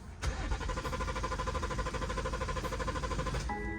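A BMW 340i starter cranks steadily and continuously for over three seconds without the engine catching, the result of a dead fuel pump; a close, even, rhythmic whirring drone that stops abruptly near the end.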